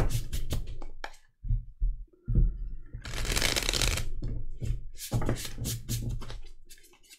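Tarot cards from a night-guardians deck are shuffled and drawn by hand in a quiet room, with repeated crisp riffling bursts and soft slides and taps between them, close and clear with no talk.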